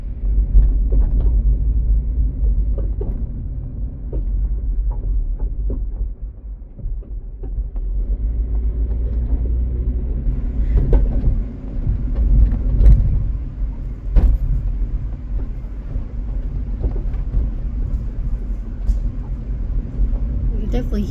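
A 1996 JDM Honda CR-V is driven with a suspension fault, its low road rumble broken by occasional dull thumps and knocks from underneath, while a person talks over it.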